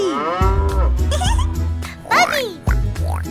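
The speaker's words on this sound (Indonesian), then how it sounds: "sapi" A cartoon cow in a children's nursery song gives several loud, close moos, each a deep drawn-out call, over bright music with high sung or squeaky accents.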